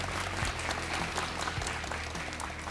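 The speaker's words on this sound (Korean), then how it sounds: "이분들께도 박수 한번 드릴까요?" A studio audience applauds at a televised crowdfunding event in Daegu, a dense, continuous wash of clapping filling the whole stretch at full loudness.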